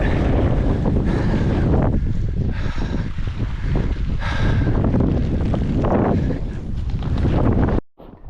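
Strong, gusting wind buffets the microphone on a wet, rocky mountain pass on the Coast to Coast walk between Ennerdale Bridge and Rosthwaite, a loud continuous roar that swells and eases before cutting off abruptly near the end.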